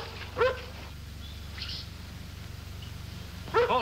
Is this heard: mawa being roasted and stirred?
no